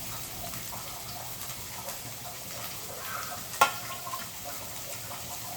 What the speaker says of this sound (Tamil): எல்லாத்தையும் சேர்த்து நல்லா மிக்ஸ் பண்ணி வச்சுக்கலாம். கொஞ்ச நேரம் நல்லா வதங்கட்டும்.